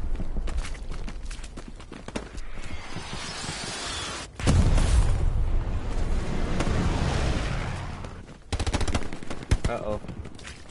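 Gunfire in the World War II shooter Hell Let Loose: rapid machine-gun bursts and single shots, some close and loud, with a heavy rumble in the middle and someone talking in between.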